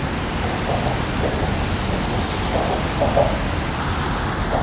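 Steady rain hiss across an outdoor walkway on the Brooklyn Bridge in New York, a constant broadband wash with a few faint higher patters, continuous and fairly loud throughout.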